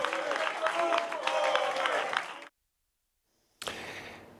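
Council members standing to applaud the mayor at a city council session amid protest noise, a dense mix of clapping and crowd shouting with voices throughout, broken by a gap of about a second of silence before the noise resumes.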